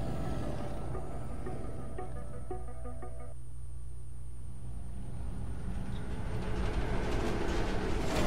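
A minecart rolls along automated train tracks through the Nether in Minecraft: Story Mode, a steady low rumble with tonal mechanical layers that persists for the whole stretch, louder toward the end.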